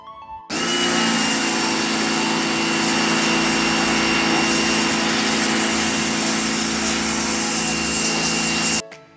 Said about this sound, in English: Now I will be using this pressure cleaner to clean the stairs.